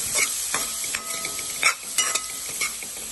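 Boiled carrots and green peas tossed and stirred in a frying pan, a soft sizzle underlying scattered scrapes and clinks of a spoon against the pan, close and moderate, with no speech.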